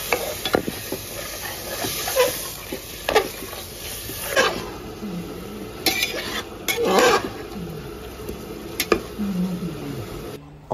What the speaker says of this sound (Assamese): এতিয়া মই পূৰা লাৰি থাকিব লাগিব